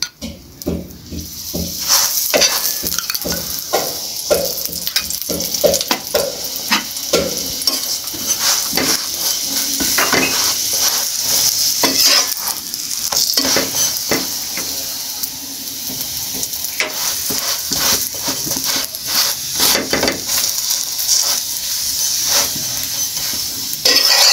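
Paratha frying in oil on a flat pan, a steady loud sizzle with scraping and turning sounds of a spatula throughout, no talking.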